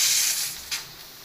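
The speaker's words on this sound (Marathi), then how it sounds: "छोटं कुकर आहे ना, सगळं उतर जात आहे सगळं." A small pressure cooker holding dal boils over with a strong, airy hiss that fades, then surges in one brief puff before settling into a softer hiss.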